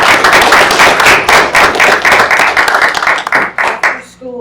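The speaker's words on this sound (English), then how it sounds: "We're going to give you a round of applause." A school board meeting audience gives a round of applause, loud close hand clapping at a steady pace that tapers off, with a voice starting to speak at the end.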